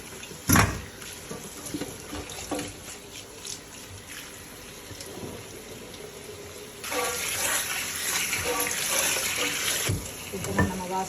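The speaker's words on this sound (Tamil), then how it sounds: "வெஜிடேபிளில் நீட்டாக சுத்தமாக இப்போ நான் கழுவி இது பண்ண போகிறேன்" Tap water runs steadily into a sink while vallarai leaves are washed clean, the splashing getting louder and fuller partway through, with occasional clinks and handling noises.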